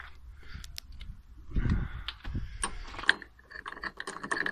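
Ratchet with a socket working on a Golf 2 front shock absorber, several short clicking bursts and metallic clanks close by, irregular and fairly quiet, with no talking.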